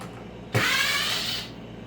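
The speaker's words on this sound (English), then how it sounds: "I'm going to take the 2 screws that I have holding the middle piece down" A power drill backs out a screw holding down a middle panel in a Tahoe subwoofer enclosure build, a single close whirring burst lasting about a second between quiet room tone.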